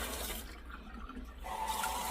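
Hot water runs from a tap in a house under renovation, a steady close hiss of flowing water that swells and then eases slightly over its short length.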